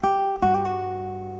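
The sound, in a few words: classical guitar hammer-on and pull-off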